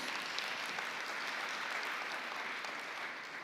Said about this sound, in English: I believe should deserve a big round hand of applause.